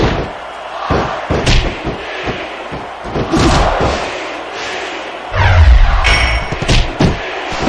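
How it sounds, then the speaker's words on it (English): In the wrestling game SVR 2006, a wrestler is hit with the steel steps, heard as a run of loud heavy slams and thuds over constant crowd noise, with one deep, booming impact late in the clip. "What a shot from those steel steps!"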